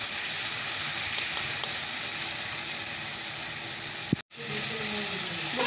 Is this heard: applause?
no